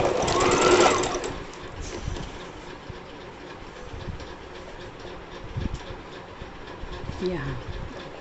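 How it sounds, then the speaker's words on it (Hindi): A sewing machine runs along the edge of a salwar, with a loud burst at the start that settles into a softer, steady stitching hum, and a voice speaking faintly over it. "किनार पे सिलाई लगाएंगे"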